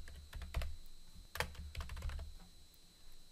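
Close, quiet tapping on a computer keyboard while entering column headers in a spreadsheet, a few scattered keystrokes and short clusters of clicks over a faint steady hum, no voices.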